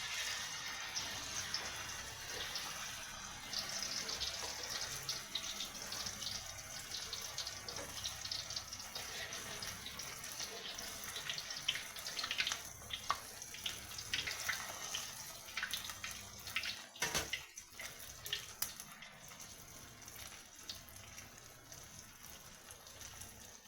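Battered jute leaf fritters fry in hot white oil, giving a continuous bright sizzle and crackle that carries on steadily throughout, with no talking.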